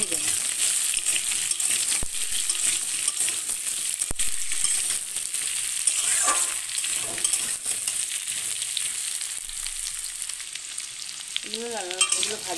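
Pumpkin and papaya pieces frying in a pan for a Bengali vegetable curry, with a steady close sizzle and occasional stirring scrapes; a brief voice is heard near the end.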